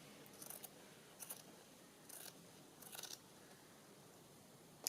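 Scissors snipping through paper while trimming a 1950s-style journal cover, heard as four short crisp cuts spaced about a second apart, close and fairly quiet in a still room.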